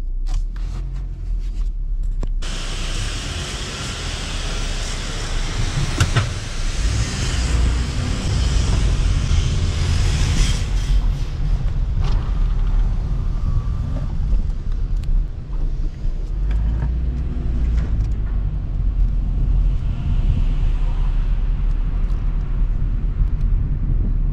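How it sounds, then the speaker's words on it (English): A 2016 Honda Civic running a junkyard replacement engine is driven around the block, with steady engine drone, road rumble and rushing wind noise heard from inside the car. "I'm gonna go ahead and start the car, and I'm just gonna drive it around the block just to see how it runs"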